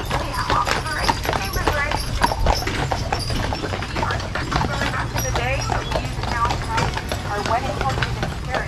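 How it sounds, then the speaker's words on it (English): Horses clip-clop along a road on Mackinac Island, with dense rhythmic hoof strikes continuing throughout and a whinny or two. People talk over the hoofbeats. "You have to stay out of the road because the horses are everywhere."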